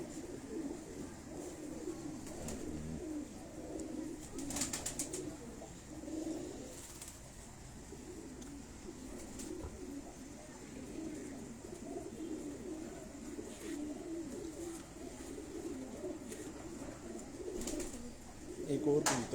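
Pigeons kept by a fancier in Abbottabad coo faintly and intermittently in the background, low murmuring calls under occasional talking.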